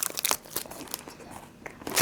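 Crinkly, crunchy bites and wrapper rustling from a Kodiak original chocolate chip granola bar, close up, with repeated crisp crackles over about two seconds.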